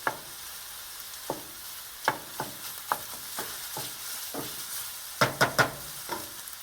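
Sausage for fettuccine with porcini browns in a hot pan, a soft steady sizzle broken by sharp scraping stirs and clicks of a utensil, close and without talk.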